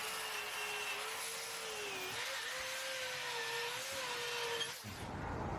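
An electric drill with a 3/8 inch bit bores a hole through a Telecaster guitar body, a steady high motor whine with wavering pitch as the bit cuts wood, ending abruptly near the end.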